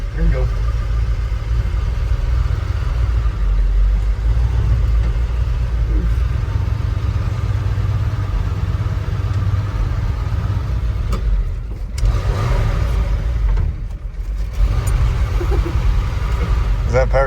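An old truck pulled from the dump runs and drives, its mid-range engine humming steadily with brief dips and surges, while people talk over it.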